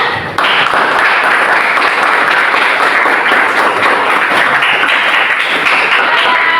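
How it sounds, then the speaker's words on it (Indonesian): Participants in a school coaching and supervision session give a round of applause to close the meeting, a loud, dense and continuous clapping of many hands that starts abruptly and holds steady. "tepuk tangan dulu buat semuanya"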